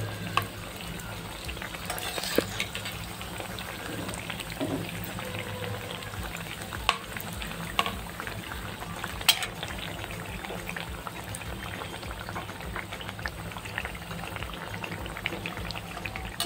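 Coarse ground paste for shahi tukda frying in a pan, giving a steady, moderate sizzle with occasional small pops and stirring scrapes, continuous throughout with no voices.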